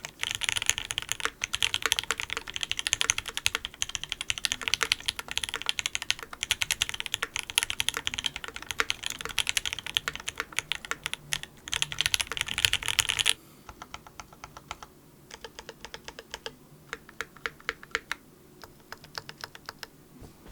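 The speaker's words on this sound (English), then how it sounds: "The clack is real with this keyboard with no pinginess in sight for miles." Someone types quickly on a Kyuu mechanical keyboard fitted with Alpaca switches, producing a close, dense stream of crisp clacks. The keystrokes then thin out into sparser, quieter bursts.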